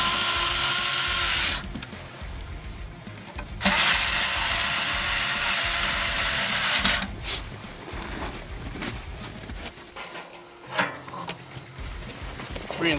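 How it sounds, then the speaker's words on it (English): Powered ratchet driver retightening three screws on a KC 7-inch LED headlight bezel, with loud buzzing whirring bursts and a pause between runs, followed by quieter handling clicks and rustling. "Retighten the three screws."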